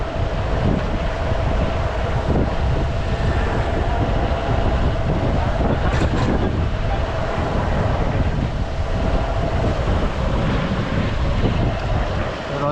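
River water and wind at Mundali bridge, a constant loud rushing roar of flowing water mixed with buffeting wind noise, steady throughout.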